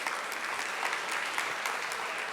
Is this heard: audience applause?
yes